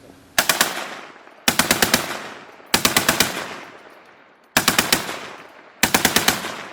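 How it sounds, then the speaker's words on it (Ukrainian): A Maxim heavy machine gun fires five loud, rapid bursts of several shots each, separated by short pauses, with echoing decay after every burst. "Кулемет Максим"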